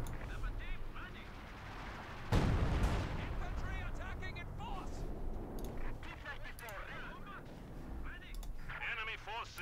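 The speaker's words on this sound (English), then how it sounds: "Mines being set off here by the Howitzer as well." A heavy howitzer blast from the World War II strategy game Company of Heroes 2 booms once, loud and close, amid scattered smaller explosions and game effects while a commentator talks throughout.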